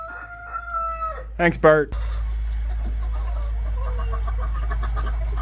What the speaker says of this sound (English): a lot of the chickens like spending their time in the duck pen during the day.